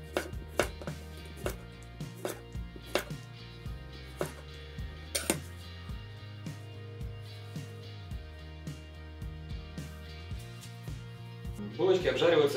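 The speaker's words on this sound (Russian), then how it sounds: "мы с вами будем нарезать овощи" Vegetables for burgers are chopped on a board with a knife, in sharp, irregular taps spread across the clip, while a voice speaks softly in the background.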